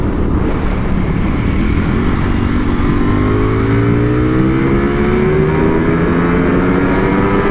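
A 2021 Ducati Panigale V4S superbike's Desmosedici V4 engine revs loudly and close up, pitch climbing steadily through a sustained pull with rising harmonics and wind rush.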